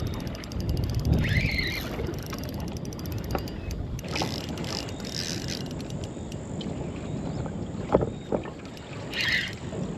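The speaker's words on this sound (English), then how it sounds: "Just the wind picks up." Wind gusting over a boat on a river during fishing, a broad, steady rush with microphone buffeting and occasional creaks and clicks of gear, heard with no one speaking.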